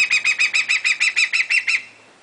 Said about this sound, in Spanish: ¿Sí ves tan bonita el águila?